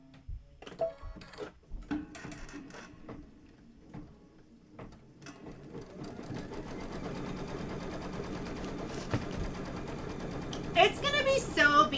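An embroidery sewing machine stitches a tack-down on a quilt block, first with scattered clicks and handling sounds, then a steady rapid mechanical whir, with occasional talking.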